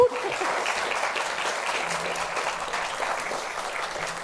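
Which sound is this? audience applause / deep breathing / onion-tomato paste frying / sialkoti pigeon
audience applause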